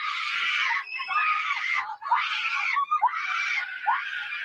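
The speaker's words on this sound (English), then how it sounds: "He has a horrific scream." A haunted house actor at a home haunt lets out a horrific, inhuman scream in four long, shrill, wavering bursts, loud and close, with no talk over it.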